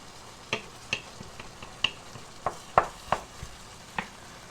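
Spicy eggs cook in a pan and are stirred, giving a series of sharp scraping and tapping strokes at an uneven pace over a soft, steady sizzle.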